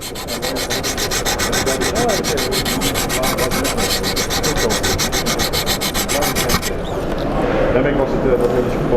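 Knife blade stroked against stones on a Wicked Edge guided sharpener, a steady run of quick rhythmic rasping strokes under continuous talking, ending in a brief softer pause.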